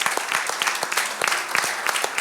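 Church congregation applauding the Lord during a Spanish-language service, a steady, close burst of many hands clapping with sharp individual claps standing out throughout.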